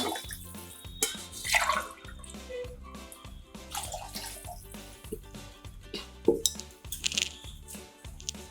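Water is poured and sloshed into rice in a pot while making paneer pulao, a wet splashing with intermittent clinks and drips, fairly close.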